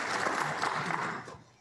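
A church congregation at a Lutheran service claps together, a dense steady patter of many hands that holds for over a second and then tapers off near the end.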